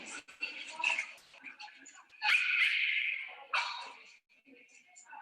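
A small dog plays the day after recovering from a respiratory emergency, giving soft yips and whimpering play noises in short bursts, with a louder sustained whine in the middle; people talk faintly in the background.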